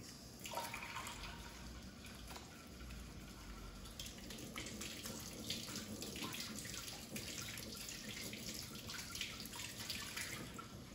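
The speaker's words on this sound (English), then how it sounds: "I'm going to wash my hands." Running tap water pours into a sink while hands are washed beneath it, a steady faint splashing hiss with small irregular splatters throughout and no talking.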